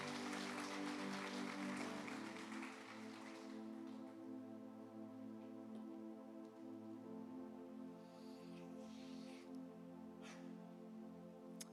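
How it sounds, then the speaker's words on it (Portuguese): A church congregation applauds actors after a performance during a live worship service, sustained clapping louder at first and then continuing more thinly over a steady tonal background hum. "pode aplaudir os nossos atores de novo"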